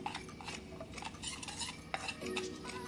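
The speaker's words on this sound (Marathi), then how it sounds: "आता हे याच्यामध्ये लिंबाचा रस टाकून मिक्स करूया।" Lemon juice being stirred into red chili powder and salt, with quick, close scraping and clinking strokes of a spoon against a small bowl, soft and continuous with no talking.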